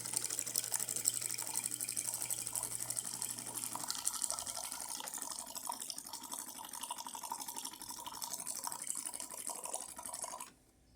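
A DeLonghi EC685M espresso machine dispenses hot water in a steady hissing, splashing stream. A low hum sounds at the start, and the flow cuts off abruptly near the end.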